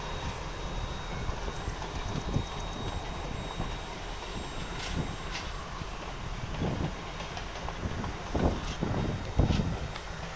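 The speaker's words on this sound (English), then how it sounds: "This video was shot as the train passed through the Partridge Hill district" A CP heritage train rolling past at a distance, steady rumble with rhythmic clacks of wheels over rail joints growing a little louder near the end.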